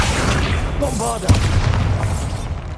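A Bombarda spell explodes in Hogwarts Legacy, a deep booming blast landing near the middle of the clip over a continuous low rumble of game ambience, with a voice chanting spell names nearby.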